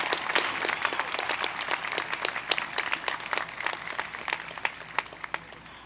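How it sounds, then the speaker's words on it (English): A hall audience at a California State University Northridge honors convocation claps steadily for honored graduates. Crisp, dense claps ring out close and clear, then gradually thin and fade toward the end. "Now let us recognize all of those who have been honored today with our applause"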